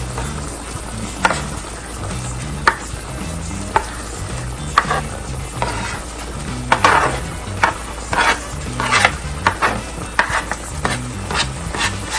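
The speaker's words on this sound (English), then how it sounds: "So I'm gonna put my seasoning inside now." Seasoning being stirred into Jamaican oxtail simmering in a pot, with repeated scraping and knocking of a spoon against the pot over a light sizzle, the sharp clacks coming at irregular intervals.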